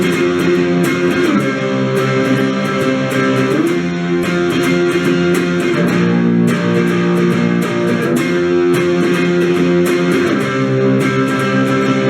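Chorus of a song on guitar: thick, driven chords strummed in a steady rhythm with bright accents, dense and loud, continuous with no talk.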